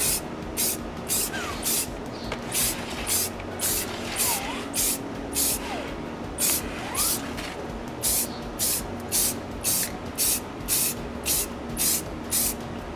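Spray paint is applied to Dolby Atmos ceiling speakers in a DIY home theater, short repeated hissing bursts about once per second, close and loud over a constant background hum.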